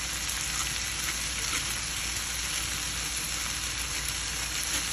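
Dry garlic frying in a pan for spaghetti, a dense, even, close hiss of sizzling oil that holds steady throughout with no voices.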